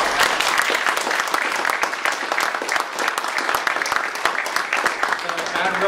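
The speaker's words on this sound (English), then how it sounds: "How about giving a round of applause?" Audience applause for a guest named Adam at a meeting, a full room of clapping with sharp individual hand strikes, steady and fairly loud, with voices mixed in underneath.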